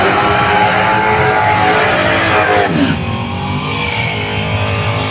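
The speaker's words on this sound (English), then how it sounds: "It's Jonah Lomo's old race car." Drag racing car engine revving loudly and close, a dense roaring burst that peaks then drops to a lower idling rumble, with people talking nearby.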